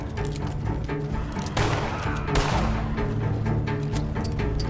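Gunfire in the cowboy video game Red Dead Online comes as a dense burst of shots and crashing impacts over a constant game background, loud and close, with one heavier volley in the middle.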